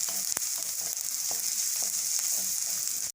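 Finely chopped onion sautés in a pan with a bright, steady sizzle and hiss, punctuated by a few sharp clicks from stirring, close and continuous until it stops abruptly.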